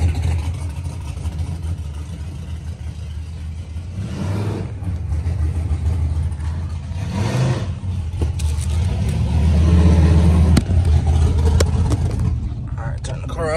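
A car engine rumbles and swells in a few revs at a test-and-tune track day, the low drone rising and falling beneath close conversation.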